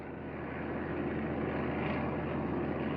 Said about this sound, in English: Japanese sea lanes were regularly patrolled by General George Kenney's B-17s and B-24s.